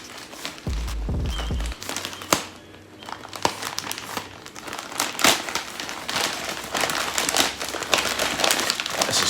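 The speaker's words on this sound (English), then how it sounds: "we got the knife, we got the box, so let's cut this bitch open." A knife cuts open a Nike shoe box, giving a run of dense crinkling, crackling and tearing of cardboard and paper, close and fairly loud with uneven bursts throughout.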